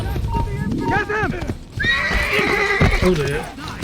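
A horse in the Assassin's Creed video game whinnies loudly with wavering neighs, accompanied by clip-clopping hooves, while a player talks excitedly over the sounds.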